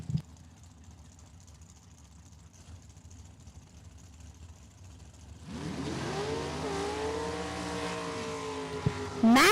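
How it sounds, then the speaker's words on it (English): A dragster at a drag racing event launches partway through, its engine rising from quiet into a loud, climbing roar after a calmer stretch, with a short burst at the very end. "19 for Paul Eddins in the multicolored dragster"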